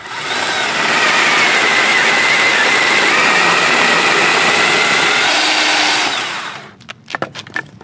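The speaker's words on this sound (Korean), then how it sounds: "얇은 나무 3개 정도를 뭉쳐서 잘 잘리는 거 한번 잘라볼게요" WORX cordless chainsaw cutting through three thin branches bundled together: a loud, steady high-pitched motor whine with chain rasp for about six seconds, then it stops, followed by a few clattering knocks.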